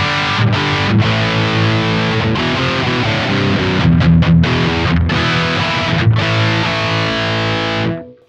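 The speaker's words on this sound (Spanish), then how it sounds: "Ahora tengo el canal distorsionado del Friedman," An electric guitar plays through the distorted channel of a Friedman amplifier, sustained crunchy chords ringing loud and continuous for several seconds before cutting off, with no talking.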